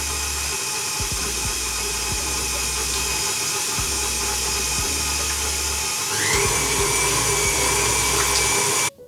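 An electric hand mixer whirs steadily, beating cookie dough with egg, a loud continuous motor drone with slight rises in pitch and a brief cutoff at the end.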